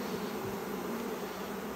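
Honeybees buzz at an open hive during May colony splits, a steady, dense hum that holds close and even throughout with no voices.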